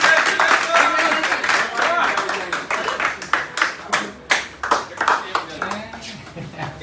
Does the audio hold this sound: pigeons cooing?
no